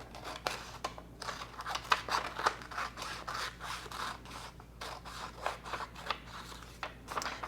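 Scissors trimming fleece fabric for ear warmers, a steady series of close, crisp snips and soft scrapes in an uneven rhythm, with no talking.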